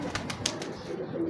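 Breeder pigeons in a fancier's loft give soft, low cooing murmurs, faint and continuous against a quiet room background, with no talk.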